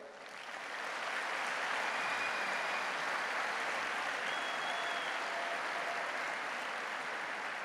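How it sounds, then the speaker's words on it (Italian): Dense applause from a large crowd at a papal audience with the Neocatechumenal Way, swelling in quickly and holding as a steady roar with a few faint whistles. "E un applauso per tutti quelli che partono per l'Europa"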